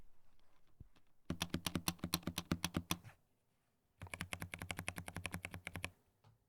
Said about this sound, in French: Logitech qui m'a envoyé un nouveau clavier. Le G512X. Écoutez-moi ce son de touche.